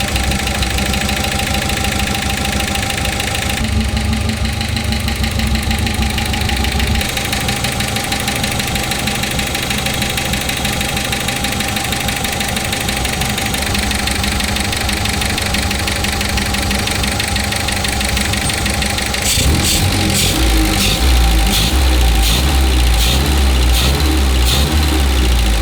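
A 1955 Austin Healey engine runs steadily while its mixtures are tuned, a loud continuous mid-pitched idle with a faint knock, and the tone changes partway through as it revs slightly.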